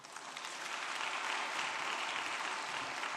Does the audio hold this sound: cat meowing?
no